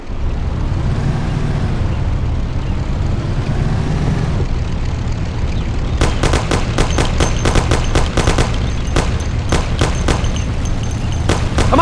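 Gunfire in the video game Mafia HD Remastered: after a stretch of engine drone, rapid bursts of Thompson-style automatic shots rattle out repeatedly, loud and close over a continuous vehicle rumble.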